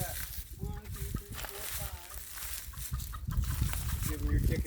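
Backyard chickens cluck and squawk in a pen, close and continuous, with a person talking over the birds throughout.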